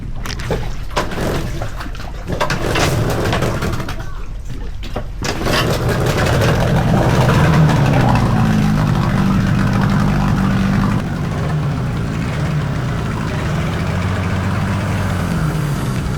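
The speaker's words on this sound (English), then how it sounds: "the old Yamaha felt great. It started easily, it ran smoothly, the telltale was flowing nicely" An old Yamaha outboard engine running on a boat, a loud, steady mid-pitched motor drone close by, preceded by a few seconds of uneven clattering and bursts as it starts and settles into an even idle.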